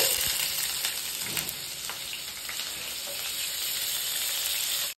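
Onions, cashews and green chilies frying in hot oil for curry leaf chicken fry, a steady close crackling sizzle with faint stirring, running evenly throughout before cutting off abruptly.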